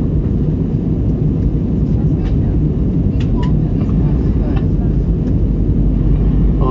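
Airliner cabin during descent toward Dortmund before landing, a loud, steady low-pitched engine and airflow rumble filling the whole stretch, with faint voices underneath.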